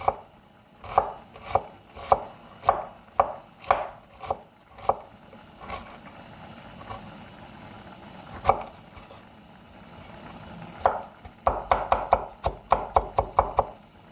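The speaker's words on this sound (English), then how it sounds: "you just want to chop your onion into smaller pieces" Onion chopped with a knife on a cutting board for homemade chili, crisp close knocks in irregular bursts, quick runs at first, a few spaced cuts in the middle, then a fast flurry near the end, with no talking.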